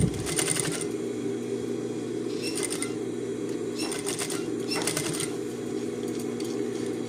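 A sewing machine stitches a jeans yoke seam in several short whirring bursts, each under a second long, with quiet gaps between them and a low steady hum running throughout.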